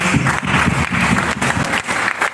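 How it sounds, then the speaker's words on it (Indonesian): Audience at an Indonesian lecture event applauding a professor, a dense burst of clapping from a room full of people lasting a couple of seconds, close and fairly loud. "Sebelumnya kita beri tepuk tangan dulu untuk Prof."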